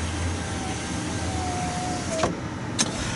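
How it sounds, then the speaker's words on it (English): The power sliding rear window of a 2019 Chevrolet Silverado LTZ pickup closes with a steady electric motor whine lasting about two seconds and ends in a soft thunk, followed by a brief click, heard inside the cab. "Got the sliding window back there."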